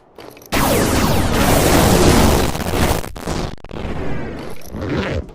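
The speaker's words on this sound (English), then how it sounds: "Why'd you use the firework?" A firework goes off in the virtual reality game Animal Company with a sudden loud boom, then a long crackling, bursting roar that fades and swells again over several seconds.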